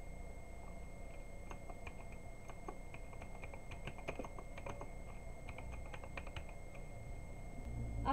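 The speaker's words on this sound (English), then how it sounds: "In our second step, let's type my full name." Typing on a computer keyboard while entering a name in Microsoft Word, a steady patter of soft keystrokes at close range with no talking.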